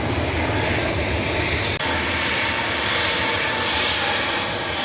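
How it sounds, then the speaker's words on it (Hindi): A Kenya Airways airliner at an airport, its engines roaring loud and steady at close range for several seconds, a broad continuous rumble with one brief dip. "अभी फ़्लाइट का शोर चेक करें आप, फ़्लाइट देखें कीनिया एयरलाइन जो कि अभी जा रही है।"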